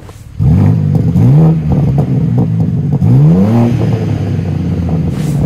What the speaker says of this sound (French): je vous propose d'écouter la belle mélodie du moteur 6 cylindres 3 litres 510 chevaux